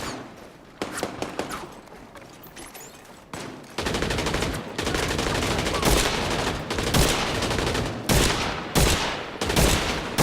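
Gunfire in the video game Just Cause 4, with sporadic single shots giving way to dense automatic fusillades and rapid bursts that continue loudly throughout, with no talk.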